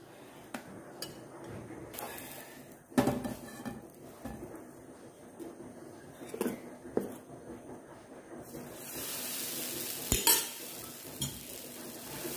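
A utensil stirs sambar batter in a pan for millet dosa, with irregular scraping and clinking strokes and a few sharper knocks against the metal, close and moderately loud.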